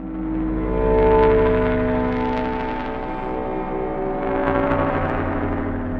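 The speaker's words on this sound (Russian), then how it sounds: "Это звук СССРовских ламп." Old Soviet-era lamps hum steadily along a lit corridor in abandoned Pripyat, a continuous low electrical drone with layered harmonics that holds evenly throughout, with faint echoey room noise and no speech.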